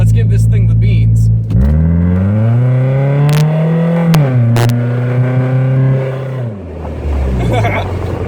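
A 1997 BMW Z3 engine revs hard through the gears, its loud rising drone climbing in pitch, shifting and climbing again, with voices talking over it inside the car.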